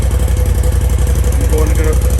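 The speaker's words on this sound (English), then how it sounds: "Has a little bit of a thump to it because I had removed the catalytic converter." 2021 RZR Turbo S engine idling through a DIY exhaust with the catalytic converter removed, a loud, close, evenly pulsing thump that holds steady throughout.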